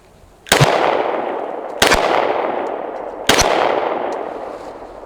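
Three loud, close pistol shots from a Polymer80 knockoff Glock ring out about 1.5 seconds apart, each with a long echoing decay at an outdoor range.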